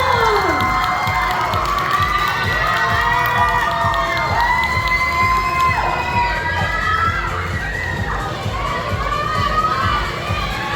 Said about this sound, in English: Let's give a round of applause to Charlotte Generation!